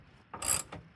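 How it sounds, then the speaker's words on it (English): A ratchet with a 9/16 socket removes old bolts from RV suspension, giving a brief, faint burst of rapid metallic clicking. "So this is removing the old bolts."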